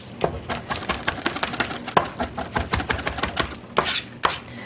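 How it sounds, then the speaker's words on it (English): Knife roughly chopping fresh cilantro on a cutting board, a steady run of quick, crisp close-up chops with uneven rhythm and a few heavier strikes, no talking. "I just like to cut it up just a little bit, just a little rough chop."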